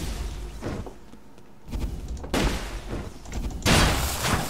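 Several muffled video game explosions burst out one after another, each a broad rumbling blast with a short tail, loud and close with quieter gaps between.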